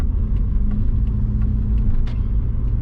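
Steady low rumble of a twin-turbo Subaru engine idling or cruising, loud and continuous with faint higher hiss and small ticks on top, no one speaking.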